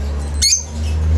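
Lovebirds crowded together in a shared cage give one short, sharp squawk that stands out alone over a steady low background hum.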